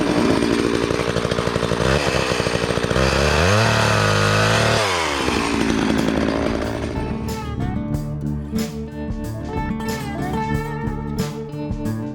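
A chainsaw runs loud and close, its pitch rising and falling as it revs, then drops toward idle with scattered knocks.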